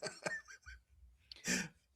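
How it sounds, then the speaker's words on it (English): A man coughs several times in quick, harsh bursts close to the microphone, the last one the loudest. "I'm about to have a coughing attack."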